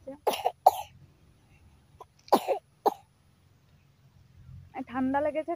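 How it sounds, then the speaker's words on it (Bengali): A young girl with a cold coughs in several short sharp bursts, close and alone in a quiet room, before an adult begins talking. "ঠান্ডা লেগেছে, কাশি হচ্ছে"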